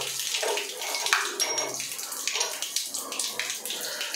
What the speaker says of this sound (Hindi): अभी जो पाइप में जो थोड़ा सा पानी है वो निकल जाएगा